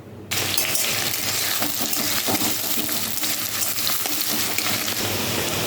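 Onion hits hot white cooking oil in a pan and fries with a loud, steady sizzle that starts abruptly and crackles continuously with occasional stirring clinks, close up and without talk.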